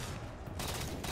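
Gunfire in Halo 4 during a 2v2 Battle Royal tournament match, a dense, steady stream of shots lasting about a second with no voices.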